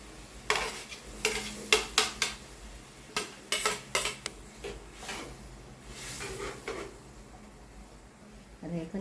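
Ginger and chili peppers tossed into a hot cooking pan, with a run of close clattering scrapes and stirring clunks against the metal over a soft sizzle, fading to quieter sizzling toward the end.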